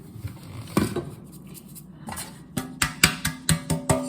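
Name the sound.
shaking flour around in a buttered cake pan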